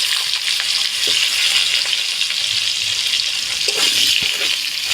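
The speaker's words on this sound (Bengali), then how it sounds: "এর মধ্যে এবার দিয়ে দেবো কয়েক টুকরো লম্বা লম্বা করে কেটে নেওয়া আলু" Long-cut potato pieces fry in mustard oil in a wok, making a loud, steady, close sizzle with occasional stirring scrapes and crackles, and no voices.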